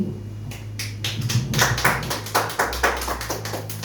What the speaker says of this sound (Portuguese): as palmas no nome do Senhor